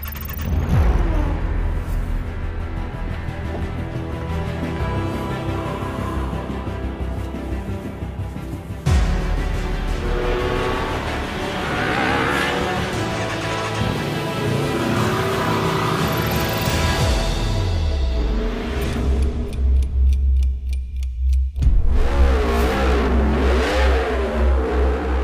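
A Griiip G1 race car engine in a virtual racing game revs loud and close, climbing and dropping through repeated gear changes across a long sustained run with no talk over it.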